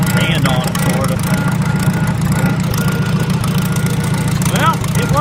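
A Farmall Super A tractor engine runs with its throttle raised a little. The steady, loud, low rumble fills the whole stretch, with a faint voice under it.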